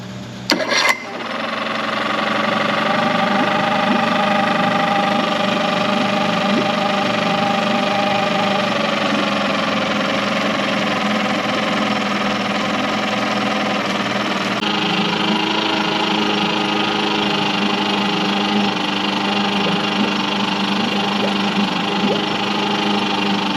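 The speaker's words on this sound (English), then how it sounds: "So the engine actually doesn't sound too bad." Mercury 9.9 four-stroke outboard motor idling steadily on its own, a close, even mechanical hum that holds for the whole stretch after a brief start.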